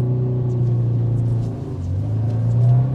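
A drift car on a practice course holds steady, loud engine drone with a small dip in pitch partway through, then climbs again under throttle, running close and continuous with no voices.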